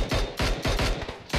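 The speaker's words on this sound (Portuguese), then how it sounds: "Muito tiro." Rapid bursts of video game gunfire, loud and close, several volleys in quick succession in an online shooter match.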